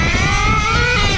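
An HPI Savage X 4.6 nitro RC truck running rich with a two-speed transmission screams loudly and steadily at high revs, a buzzing, raspy engine note close by with slight pitch shifts.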